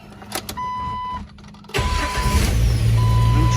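A Jeep engine with a new exhaust manifold cranks and catches, then settles into a steady, fairly quiet idle with a low rumble and a faint chime in the background.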